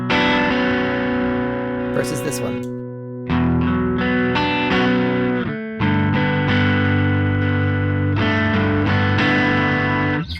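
Electric guitar played through a Beetronics Wannabee dual overdrive run in parallel with a Klon, giving a thick, driven tone with sustained chords and phrases, briefly interrupted by a short spoken remark.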